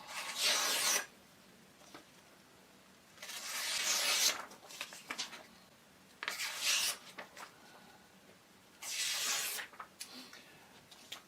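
An 8.5-inch Kyoku kiritsuke chef's knife slicing through food, with four long rasping strokes spaced a few seconds apart, close and fairly loud, with soft quiet between them.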